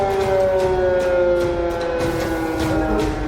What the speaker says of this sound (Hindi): खतरे को दिखाता ये सायरन